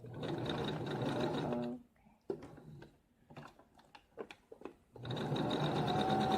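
A sewing machine stitches pink fabric for a sweat bra in steady, close whirring bursts at the start and end, with a gap of small clicks and handling noises between.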